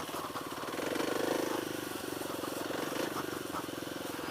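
A Kawasaki KLX300 dirt bike engine drones steadily while riding off road in low gear, a close, continuous buzzing rumble that swells slightly in the middle and holds without breaks, with no talk.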